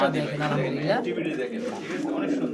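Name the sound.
Indian Lotan pigeons cooing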